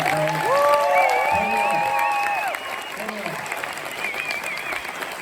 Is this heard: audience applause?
yes